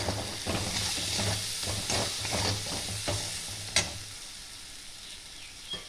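Poppy seed paste frying and being stirred in a pan with ridge gourd and shrimp cooking, a close sizzle with rhythmic scraping strokes that fades to a quieter hiss toward the end, no voices.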